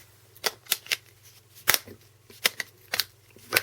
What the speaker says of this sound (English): Cover slide clicks on nicely.